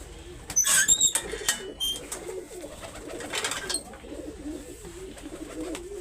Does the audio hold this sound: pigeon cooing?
yes